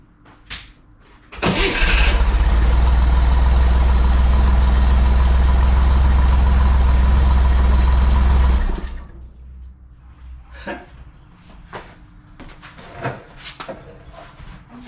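A 1963 Chevrolet Corvair engine cranks and catches, then runs at a loud, steady idle for several seconds before shutting off, leaving quiet background with scattered small knocks.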